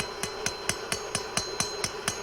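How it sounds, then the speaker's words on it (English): Hammer forging a rebar tent stake, struck in an even, steady rhythm of about nine sharp metallic blows as the bar is rotated, close and clear with no talk. "So now I'm just rotating it and hammering all the surfaces evenly."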